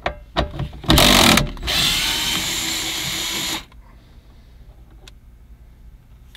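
Power driver fitted with a magnetic tip spinning out two 10 millimeter bolts during radio removal on a 2008 to 2015 Scion xB, a loud whirring burst followed by a longer steady run, then quiet.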